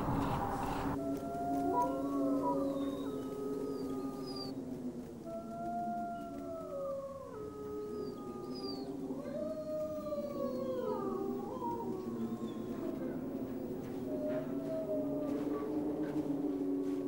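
Several wolves of a Yellowstone pack howl together in the wild, overlapping long rising and falling howls that carry steadily for about seventeen seconds, sounding somewhat distant, with no voices.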